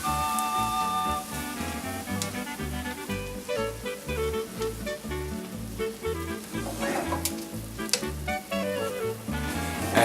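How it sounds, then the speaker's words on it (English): Spätzle sautéing in butter in a pan, a continuous sizzle with soft crackling, overlaid by a steady musical backing track that plays throughout. "I'm gonna take the Spätzle and saute it in some butter."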